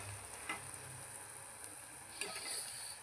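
Masala and spices sizzle in hot oil in a pan for street-style egg bhurji, a soft continuous frying hiss with a few faint stirring clicks, no talk.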